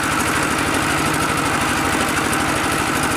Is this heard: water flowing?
no